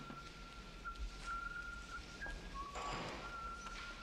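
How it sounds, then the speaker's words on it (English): A man in the 1988 action film Die Hard whistles Jingle Bells, a thin, steady tune of short notes heard faintly over a low background hum, with no talking. "He's whistling jingle bells."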